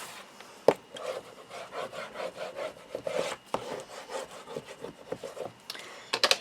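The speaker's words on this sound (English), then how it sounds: "just wiggle it into place. There we are, and then burnish it down" Folio material being burnished into place by hand, a run of quick, close, rhythmic rubbing strokes, dry and scratchy, with a few sharper taps between them and no talk.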